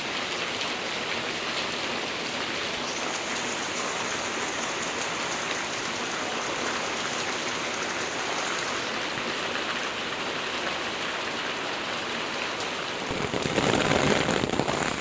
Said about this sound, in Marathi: पाऊस दाखवतो तुम्हाला बघा